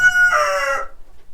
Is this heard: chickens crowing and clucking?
yes